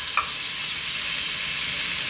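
Sliced white onion sizzles steadily in olive oil in a pan, with a dense, even crackle that holds close and constant throughout and no voices.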